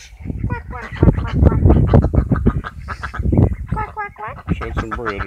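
Ducks at a park pond on a cold day, honking and quacking calls mixed with talk from people nearby, fairly close and continuous.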